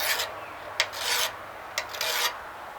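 A metal file rasps across a heat-treated Damascus steel skinning knife blade in several rough strokes, each a gritty, digging scrape separated by brief pauses.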